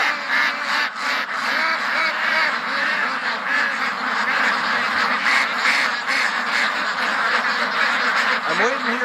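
Ducks quacking continuously in a pen, a dense overlapping chorus of many birds close by, with a person talking underneath.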